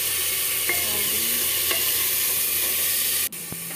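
Tomato and chili fry in a pan with a steady, even sizzle and a couple of faint stirring taps, ending in a brief knock near the close; no one speaks.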